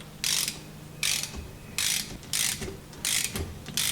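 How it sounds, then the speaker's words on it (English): A ratchet wrench clicks in about six short, bright bursts while running a bolt down into repaired stripped threads during assembly of a 115 Mercury outboard engine. It is close and clear with no talking. "I'm just using it like a ratchet wrench right now."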